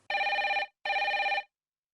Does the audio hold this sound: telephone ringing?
yes